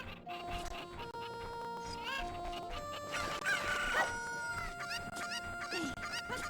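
A rooster crows in the video game Ocarina of Time, heard over busy layered game music and effects, with its call rising most clearly around the middle of the stretch.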